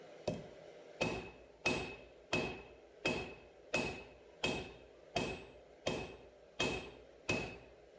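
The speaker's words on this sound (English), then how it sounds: "now I'm switching to my bigger 3-pound cross-peen hammer to really move some material." A 3-pound cross-peen hammer strikes a rebar knife blank about eleven times at a slow, even rhythm, each blow a sharp ringing metallic clang that decays before the next, close and clear.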